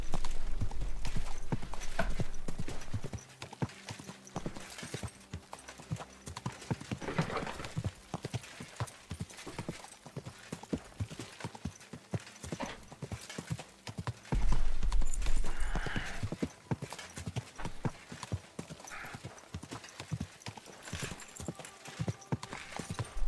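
Video game sound from Kingdom Come: Deliverance II: continuous rhythmic clip-clop of horse hooves on the ground, steady trotting pace, with a brief whinny and some faint background sounds.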